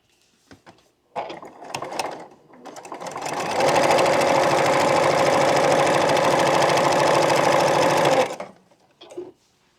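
A sewing machine stitches a quilt block seam in one steady run of several seconds, close and loud. A few short stitching bursts come before it and a brief one after.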